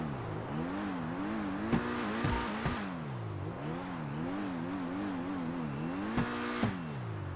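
A Grotti Infernus Classic sports car engine in the video game GTA 5 Online hums and revs in steady waves, rising and falling in pitch, with a few sharp clicks of gear shifts; no talking.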